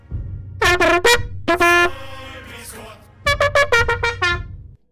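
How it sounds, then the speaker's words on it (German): Air horn alert blasts during a German gaming livestream, loud harmonic honks in two bursts of rapid repeated toots with a pause between, no talk over them. "das war eine schöne Tröte"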